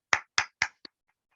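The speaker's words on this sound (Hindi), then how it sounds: "अब कुछ लोगों ने ताली बजाया है" Three sharp, evenly spaced hand claps from a seminar audience, close and isolated in silence, followed by a softer fourth clap and faint trailing ticks.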